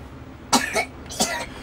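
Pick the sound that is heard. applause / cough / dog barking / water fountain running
cough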